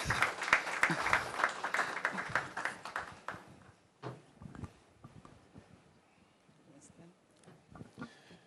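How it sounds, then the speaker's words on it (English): A conference audience at an energy sector forum in Ghana applauds loudly with dense clapping that thins out and fades after a few seconds, leaving scattered claps and a voice. "Give him a round of applause."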